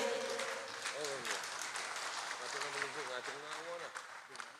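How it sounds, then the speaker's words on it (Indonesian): An audience applauds Yenny Wahid at a national dialogue gathering, a steady wash of clapping that runs the whole time while an amplified voice talks over it. "Kita berikan tepuk tangan sekali lagi untuk Neng Yeni Wahid"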